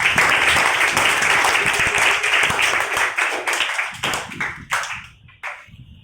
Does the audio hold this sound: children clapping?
yes